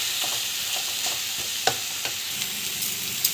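Raw banana sautéed in a pan with spice powders, a continuous close sizzle broken by occasional spatula scrapes and taps as it is stirred.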